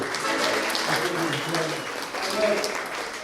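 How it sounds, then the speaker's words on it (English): Audience applause at a ceilidh with a band, a dense wash of clapping filling the room and partly masked by voices and other sounds in the hall. "can we give a great big round of applause, first of all, everybody, to Valdis and for Dennis for his fantasy tonight"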